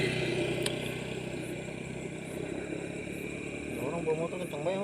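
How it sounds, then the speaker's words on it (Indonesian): A motorcycle engine hums and revs along a road at night near a riverside fishing spot, a steady mid-pitched drone that rises slightly toward the end, with a voice speaking over it. "Orang bawa motor kencang banget no."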